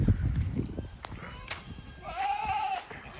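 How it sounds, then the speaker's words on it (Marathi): Goats and sheep in a pen at a shepherd's farmstead bleat, with one clear, drawn-out bleat standing out near the end over quieter rustling, some low noise and shorter calls. "इथं बघू शकता हीच ती शेळी जिला 4 पिल्लं झाल्यात"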